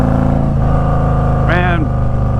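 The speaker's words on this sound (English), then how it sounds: "The sound of this exhaust, it's so, I know I said it before, but it is so extremely throaty sounding." A Harley-Davidson Street Glide Special FLHXS motorcycle engine rumbles loud and close with a deep, throaty exhaust drone, holding steady, while a voice briefly talks over it.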